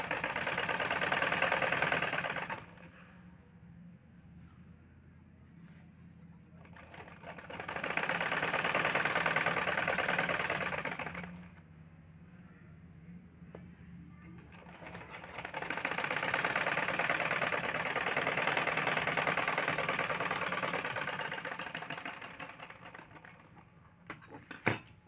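A sewing machine stitches a folded seam on a fabric sleeve. It runs in three long bursts of steady, fast mechanical whirring, with quieter pauses between them and a small clunk at the end.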